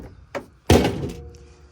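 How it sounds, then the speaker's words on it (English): A heavy thunk of structural metal comes from a car being torn apart, with a lighter knock just before it and a ringing decay after the main hit. "That's a sound of structural metal."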